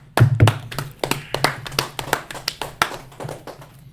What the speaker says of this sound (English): Clap it up for it.